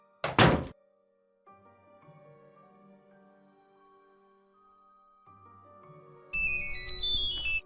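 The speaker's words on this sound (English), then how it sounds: "There goes my cell phone" Cell phone ringing in the Nancy Drew game Curse of Blackmoor Manor: a sharp thunk first, then a quiet hum, and finally a loud, bright electronic ringtone chiming in repeated rising notes near the end.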